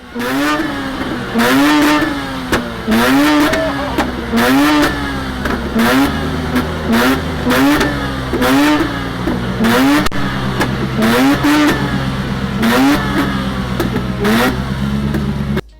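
A car engine revs repeatedly in rapid two-step launch-control bursts at a car meet, popping and crackling in a fast rhythmic stutter, loud and close for the whole stretch.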